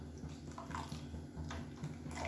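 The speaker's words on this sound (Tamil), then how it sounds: "கொஞ்சமாக தண்ணி ஊற்றிருக்கேன்." Water poured into a simmering kurma curry for idli and dosa, a soft splashing and trickling with a few brief bursts, fairly quiet and close, with no talk.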